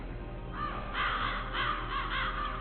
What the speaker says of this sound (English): there sure are a lot of ravens here